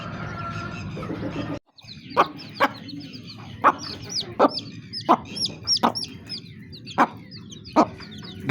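A hen clucks repeatedly in short, sharp bursts, evenly spaced and close by, over a quiet farmyard background.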